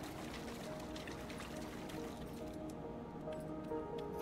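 A character wades through water in the video game Dungeons of Hinterberg, with continuous sloshing, squishing and splashing steps at a moderate level and a few faint clinks, without speech.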